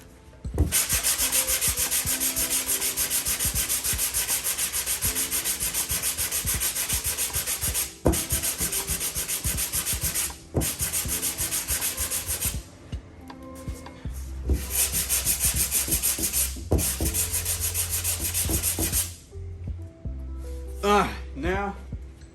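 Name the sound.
sanding 1995 Impala SS body with 80 grit sandpaper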